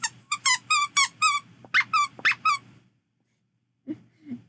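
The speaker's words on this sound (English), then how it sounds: "And it's got a squeaker." The squeaker inside a handmade plush toy is squeezed repeatedly, a rapid burst of about ten close, bright squeaks in quick succession, then a pause and a couple of softer squeaks.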